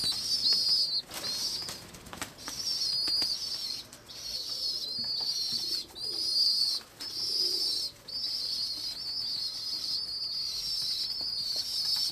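Rescued young pigeons flapping their wings during exercise, a steady run of fluttering bursts with brief pauses, close and fairly loud, with a high steady hiss and occasional soft bird sounds behind and no talking.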